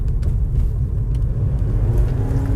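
Car engine revving hard toward 6,500 RPM, heard as a steady, loud, low rumbling drone from inside the vehicle, with no voices.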